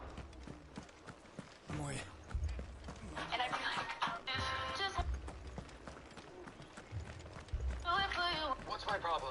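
Galloping hooves of a warrior steed in the video game Final Fantasy XVI, a rhythmic clip-clop of running footsteps under a person talking, with bursts of game music and effects.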